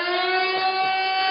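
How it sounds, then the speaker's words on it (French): A radio studio plays a siren sound effect, a loud, steady, sustained electronic wail heard alone and unbroken throughout. "Alors on va faire un effet de sirène."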